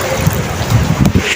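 Strong wind from cyclone Dana roars and buffets the microphone in a loud, continuous, rushing blast with no pauses.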